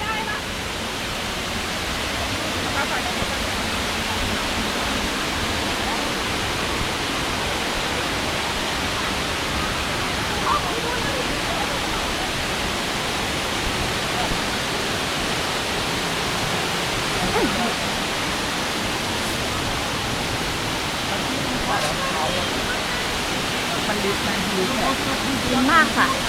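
Broadband rushing roar of a waterfall swollen after rain on a tropical island near Koh Samui, a steady wash of water noise that holds constant and close throughout.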